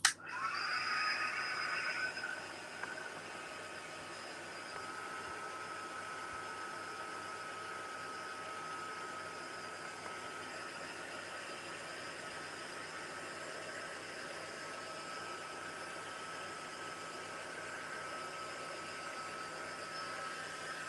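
A heat tool blows steadily over a mixed media top coat on a craft project, a continuous airy hiss that starts a touch louder and then holds even for about twenty seconds, with no talking.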